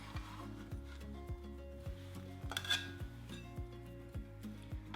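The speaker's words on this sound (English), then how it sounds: "Now we simply add all of this jackfruit into the pot that has our sauce." Pulled jackfruit for a vegan BBQ sandwich is scraped into a pot of smoky bourbon barbecue sauce. A utensil makes a run of rhythmic scraping strokes and soft clinks against the cookware, close and moderately quiet, over a faint steady tonal background.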